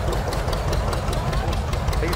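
An Allis-Chalmers WD 45 tractor engine idles at a parade, a steady loud low chugging rumble with faint rhythmic knocking throughout, with people talking over it.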